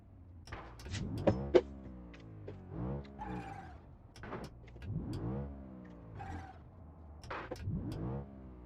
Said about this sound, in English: Is that the car making that sound?